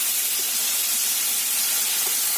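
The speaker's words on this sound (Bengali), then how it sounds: "মাছটা ভাজা বোধ হয়ে গেছে এক দেখে নিই" Fish frying in a pan gives off a steady, close, bright sizzle and hiss with small pops, unbroken throughout.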